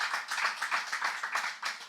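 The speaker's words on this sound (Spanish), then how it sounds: "Dale un aplauso al Señor" Church congregation applause: a brief, fairly faint patter of hands clapping in quick, uneven bursts, heard alone.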